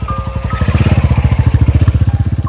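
An old, worn Honda CB motorcycle engine idles and putters close by, its steady rapid exhaust pulses loud and even for a few seconds with no voices over it.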